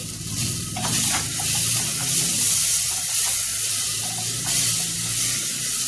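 Radish (muli) curry sizzling steadily as it fries in a pan, a continuous close hiss with occasional stirring scrapes, no talking.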